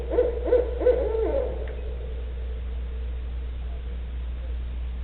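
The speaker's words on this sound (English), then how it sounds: "the chimpanzee sound that barred owls make" A barred owl gives a few loud hoots in quick succession at night, each echoing and trailing off, followed by a steady low hum with no further calls.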